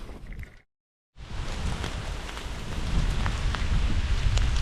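Light rain falls steadily outdoors at the Nijmegen Four Days Marches, a dense hiss with occasional drops landing close by. A short silent gap breaks it near the start, and then the rain continues, growing slightly louder.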